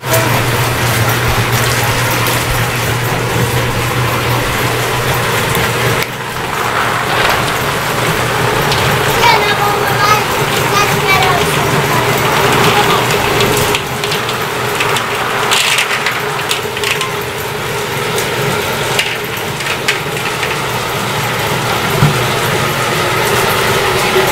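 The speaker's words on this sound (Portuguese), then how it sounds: "Agora quem assumiu a bateção de açaí foi a Tatiana. Ela que tá batendo." An açaí pulping machine beats açaí fruit with a steady mechanical rattling churn and low motor hum that runs continuously throughout, loud and close, with faint voices in the background.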